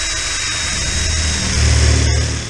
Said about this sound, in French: Faut qu'on perce le toit à cet endroit là.